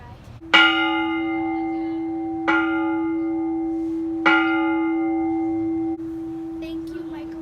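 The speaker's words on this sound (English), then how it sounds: "you want to pull the rope so the clapper bounces off the bell" Three loud strikes of an old mission bell, rung by pulling the clapper rope, each ringing out and sustaining before the next, with a low steady hum underneath.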